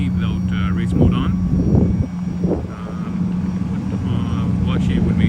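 A Ford GT idles with race mode off, a steady low engine drone with a constant hum running beneath it, while people talk over it close by.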